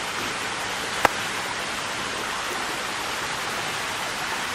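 Falling water from a fountain or waterfall roars as a steady, dense, loud rush with no breaks, broken only by a single sharp click near the start.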